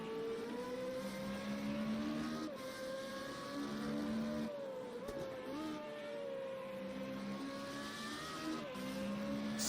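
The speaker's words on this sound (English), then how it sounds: "On board the third place car." Onboard engine of an FR35 race car lapping Watkins Glen: a loud, sustained high-revving drone that rises and falls as the car shifts gears and brakes into corners, with no voices over it.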